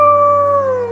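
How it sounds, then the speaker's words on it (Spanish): A wolf howls in a forest at night, one long, loud, close drawn-out cry that slowly falls in pitch, heard alone. "En el silencio del bosque, cuando cae la noche y el aire se vuelve denso, se escucha un aullido."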